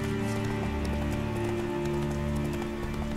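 Horse hooves clip-clop steadily through a Witcher 3 game scene, a continuous rhythmic gait over layered game music and ambience, loud and close throughout.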